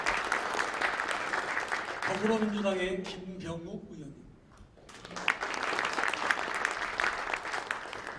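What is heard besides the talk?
audience applause for introduced lawmakers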